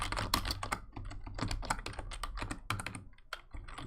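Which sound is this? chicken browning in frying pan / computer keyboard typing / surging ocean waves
computer keyboard typing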